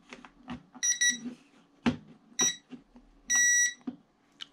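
A drone's remote control beeps as it is switched on and pairs with the aircraft: a few bright, tonal beeps and a longer held tone, spaced irregularly among soft clicks and handling noise.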